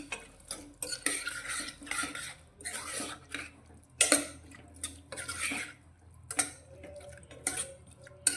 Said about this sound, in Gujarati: તો હવે આપણે જે મસાલો તૈયાર કરીને રાખ્યો છે તેને આપણે શાકમાં લઈ લઈશું અને સારી રીતે મિક્સ કરીશું